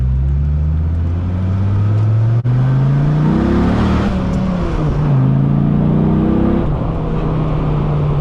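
A 2004 Dodge Viper SRT10 engine revs up steadily through several gear changes to 60 mph, pitch climbing then dropping at each shift, loud and close with road rumble.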